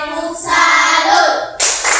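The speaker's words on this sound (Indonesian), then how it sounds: "Sekali lagi kita beri tepuk tangan untuk kelompok" A classroom group claps together for a student group in a brief burst of rhythmic hand claps, close and fairly loud, with children's voices mixed in.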